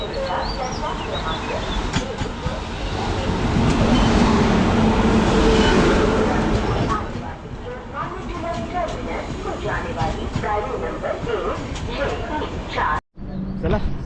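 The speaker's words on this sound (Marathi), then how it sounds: "चला ट्रेन निघाली" A train pulling out of a station in rural Konkan, heard as a loud, broad rumble that swells in the middle and eases off, with people talking and crowd noise throughout.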